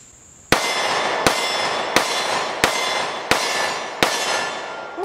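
Six evenly spaced gunshots from a Kimber Solo Carry pistol firing Sig Sauer V-Crown 124 grain jacketed hollow point rounds, each a sharp, loud crack with ringing decay, at a steady outdoor cadence.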